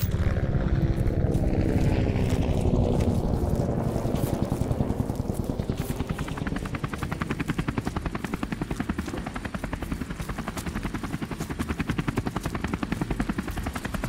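A military helicopter in the video game Modern Warfare gives a steady, close rotor thump that beats fast and never stops, with a broad roar and faint distant gunfire-like cracks blended in, and no talk.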